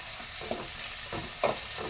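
Onion sautéing in a newly bought pan for a black-eyed pea curry, a close, even sizzle with a couple of brief stirring scrapes, no voices.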